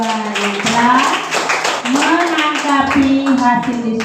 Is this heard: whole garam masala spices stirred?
no